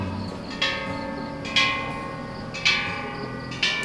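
A metal bell at a Thai temple in Khao Kho is struck four times at a slow, even pace, each close, ringing strike leaving a long shimmering decay, with no speech.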